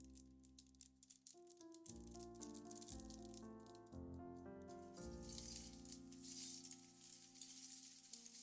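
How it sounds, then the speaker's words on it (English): Pieces from the LEGO Creator 3-in-1 Space Astronaut set #31152 rattle and clink as they tumble onto a table, a close, continuous scatter of small plastic hits. "Love the sound of Lego pieces hitting the table."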